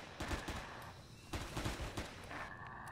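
Bursts of gunfire in the sci-fi survival game Empyrion - Galactic Survival, two or three short volleys of rapid shots, fairly quiet and without talk.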